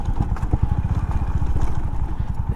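Honda CB350RS motorcycle riding in third gear, its engine a steady, loud, rapid low thumping pulse that carries on without a break and with no talk.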